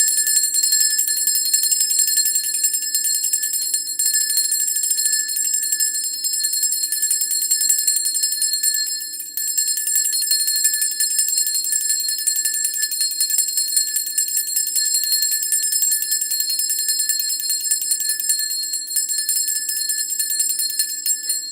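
A small bell decorated with a rose rings steadily for over twenty seconds, a bright, sustained metallic shimmer with high overtones that never fades, alone with no voices.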